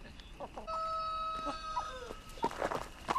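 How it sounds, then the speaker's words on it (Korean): Chickens on a poultry farm cluck and squawk at close range in irregular bursts, with a drawn-out crowing call and scattered short clucks over quiet background. "양계장 닭들은 한눈에 보기에도 달라져 있었다"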